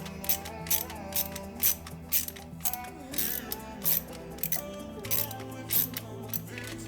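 A ratchet on a 3-inch extension clicks in repeated short bursts while tightening a fastener inside a PC case, the metallic ticking close and crisp with small pauses between strokes.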